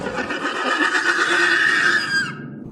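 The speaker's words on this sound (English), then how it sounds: "The horse began to throw a fuss and screech loudly" A horse screeches loudly in a long, shrill, wavering whinny that holds for about two seconds and then cuts off abruptly, with no other sound around it.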